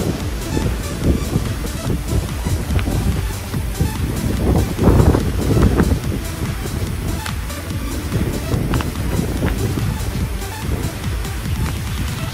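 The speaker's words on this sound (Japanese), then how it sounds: "うわ、結構大粒の雨が降ってきた。" Heavy rain with large drops driven by gusty wind at a seaside campground in Tokyo, a loud, steady roar of spatter and wind buffeting with no talk.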